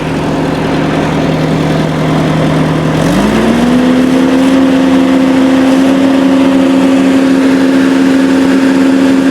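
A Kubota tractor engine idles steadily, then rises smoothly to a higher, constant drone as the throttle is turned up, loud and close with no talk.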